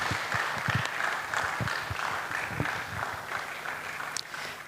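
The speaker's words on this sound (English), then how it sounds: "from that rousing hand clap" Rousing audience applause at the opening ceremony of a literary and cultural studies conference, a dense, steady wash of hand clapping from a hall crowd, sustained at even loudness throughout with no speech over it.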